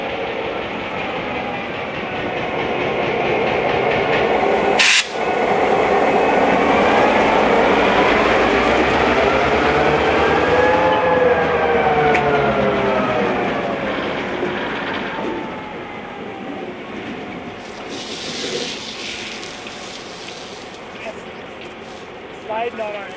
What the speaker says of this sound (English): The train has arrived at the Santa Cruz Y.